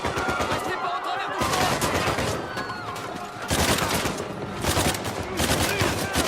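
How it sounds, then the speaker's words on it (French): A heavy gunfire shootout breaks out in a crowded market in Uncharted 4, with dense bursts of rapid shots and automatic fire, loud and close, alongside faint shouting voices. "une belle fusillade en plein marché"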